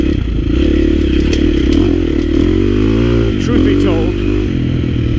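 A KTM 350 XC-F four-stroke dirt bike engine runs steadily while riding on alpine single track, a loud continuous drone that rises and falls in pitch, with someone talking over it.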